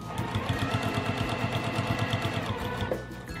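A sewing machine stitches a fabric roll-up pencil case, running at a steady, fast rhythmic clatter up close for most of the clip, then slowing near the end.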